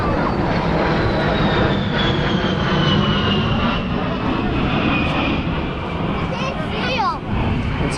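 A-10 military jets fly past at a coastal air show, a loud broad roar with a slowly falling whine that sweeps across several seconds as the aircraft pass, while spectators talk throughout.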